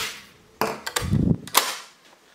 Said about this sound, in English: so you swap it back, and it's a very satisfying click